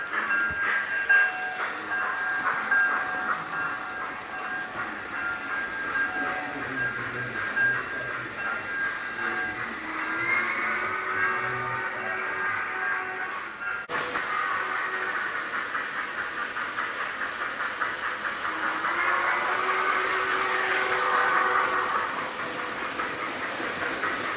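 A Lego model of the Southern Pacific 4449 steam locomotive runs with a steady hissing steam-train chug and rolling rail noise, continuous and moderately loud throughout, with no voices.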